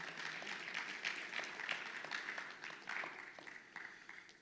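Applause from a church congregation, a steady patter of many hands clapping at moderate distance for several seconds, swelling and fading in uneven waves with no talk over it.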